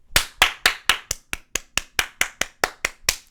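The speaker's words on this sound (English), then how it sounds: "clap it up for that. Clap it up for everybody involved." Roughly a dozen sharp hand claps land in a steady, evenly spaced rhythm, close and crisp, with no talking over them.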